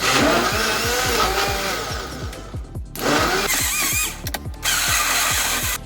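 A blender grinds a pepper mix for Nigerian jollof rice, a loud whirring motor with a regular pulsing throb that dips briefly and then resumes.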